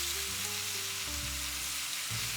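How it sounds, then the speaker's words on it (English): Steaks searing in olive oil over high heat in a Le Creuset braiser, a dense, steady close sizzle and crackle with no talking. "Place the steaks in the pan and don't touch them for about 4 minutes."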